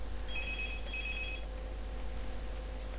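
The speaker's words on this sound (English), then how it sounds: "Oops, that's the phone." A telephone bell rings in two short trilling bursts, then falls silent, heard indoors against a steady low room hum with no talking.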